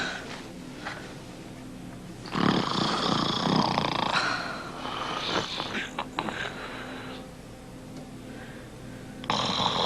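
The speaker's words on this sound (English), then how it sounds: "But I'd love you even more if you didn't snore." A man snores in bed, slow rumbling breaths repeating at a steady rhythm, close and fairly loud.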